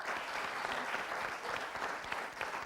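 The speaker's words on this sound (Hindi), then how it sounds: "बहुत बहुत बधाई इनके लिए, जोरदार तालियां।" Studio audience on a Hindi TV game show applauds a correct answer, a steady wash of dense clapping filling the whole stretch at even loudness.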